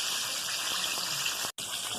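Pieces of fried chicken sizzle and bubble steadily in hot frying oil, a dense continuous crackling hiss that drops out for a split second near the end.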